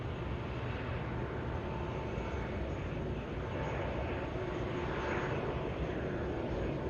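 An aircraft taxiing at Manchester Airport gives a steady, broad engine roar that holds at an even level for the whole stretch, with no talk over it.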